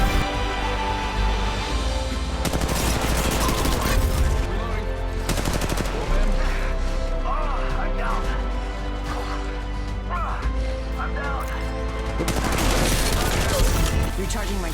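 Dense bursts of assault rifle fire in Apex Legends Mobile, rapid automatic shots with impacts and crashes mixed with game effects, continuous and loud throughout.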